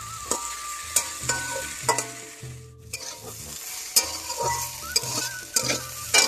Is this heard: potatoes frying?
yes